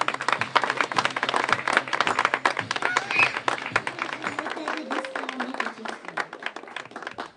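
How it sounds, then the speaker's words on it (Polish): Applause from a contest audience in Pelplin for the winners of the 2014 Piękna Wieś village competition: many hands clapping in a dense, steady patter, with some voices faintly under it. "Proszę o oklaski"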